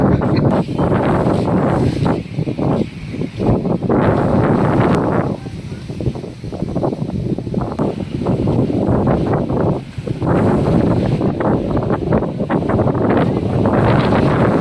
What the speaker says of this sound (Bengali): তো দেখো বন্ধুরা, সেই লেভেলের হাওয়া